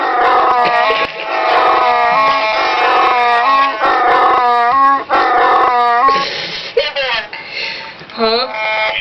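A Chewbacca roar sound effect played over a prank phone call: long, loud, warbling growls and moans that rise and fall in repeated bursts for the whole stretch, with some wavering yelps toward the end.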